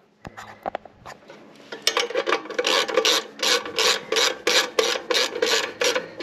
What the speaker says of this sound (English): I'm just gonna snug everything up real quick.